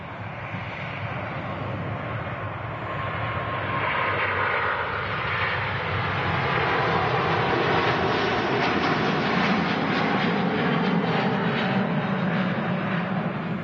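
A Singapore Airlines A350-900 with Rolls-Royce Trent engines roars past an airport, a long, steady jet rumble that swells slightly and stays loud throughout.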